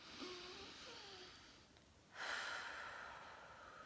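A slow, deep breath, drawn in softly and then let out in a louder, airy exhale, close to the microphone with no other sound around it.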